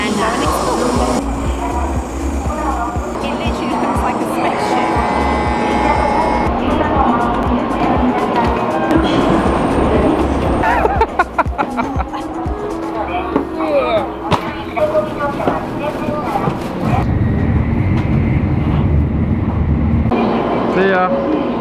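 Steady rumble and rattle inside a moving train carriage travelling from Kyoto to Himeji, Japan, with clacks and mechanical whine shifting over time and voices talking nearby.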